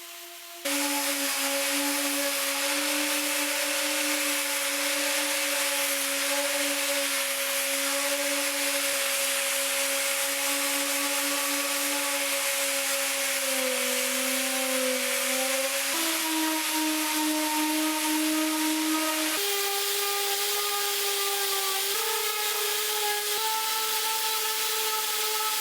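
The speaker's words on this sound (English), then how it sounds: "I'm starting off with 120 grit sandpaper on my orbital sander." An orbital sander fitted with 120 grit sandpaper works across a wooden mid-century credenza, a steady loud motor whine with a droning hum that shifts pitch slightly as pressure changes, running continuously without pause.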